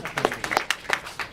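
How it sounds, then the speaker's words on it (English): Robotics club meeting audience giving itself a round of applause, a brief, sparse smattering of individual claps from a small group, a handful of distinct sharp hits. "let's give ourselves a big round of applause"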